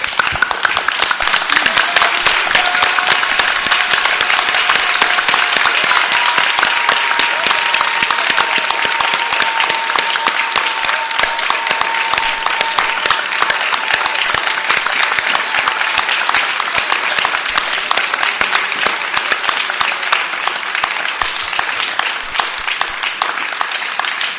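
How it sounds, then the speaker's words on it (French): A church congregation claps loudly and steadily throughout, a dense, sustained wash of applause from a crowd at a worship service, with faint voices mixed in. "Let's clap again. Acclamons encore."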